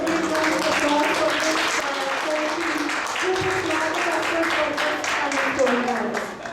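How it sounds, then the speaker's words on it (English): Applause from an audience at a community announcement event, a sustained wash of clapping that runs steadily throughout while a voice keeps speaking over it. "So I want you to give a big round of applause for"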